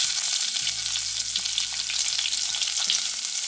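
Chopped onion frying in hot oil with mustard seeds and fenugreek for a fish curry gives a steady, close sizzle that runs unbroken through the whole stretch, with a low hum underneath and no voices.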